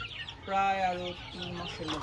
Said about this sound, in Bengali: এটা কি জাতের মুরগি হোয়াইট জাপানিজ ব্যান্থাম